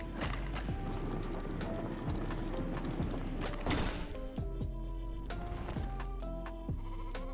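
Sheep bleat repeatedly in LEGO Fortnite while being fed, the cries coming in loud bursts over mechanical clicking and gear-like game sounds.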